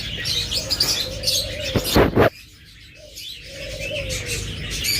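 Pet birds in a bird shop, among them lovebirds, budgerigars, cockatiels and finches, give repeated chirps and coos, with a brief burst of wing flapping midway, fairly close over a busy background.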